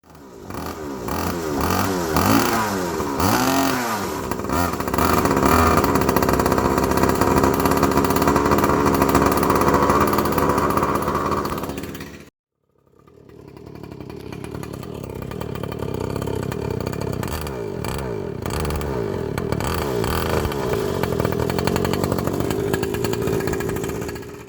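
Motorcycle engine running loudly, revving up and down with rising and falling pitch sweeps, cutting out abruptly for a moment midway, then settling into a steady, rough idle.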